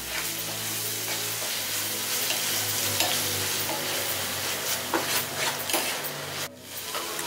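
Onion paste fries in a pan for chana masala, a steady loud sizzle that runs throughout with scraping spoon strokes stirring it, close up and without speech.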